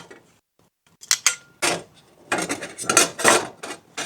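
Metal flat-top griddle tools, a spatula and grill prongs from a Blackstone accessory kit, clink and scrape as they are handled, giving several close, sharp bursts of rattling and rubbing separated by brief pauses.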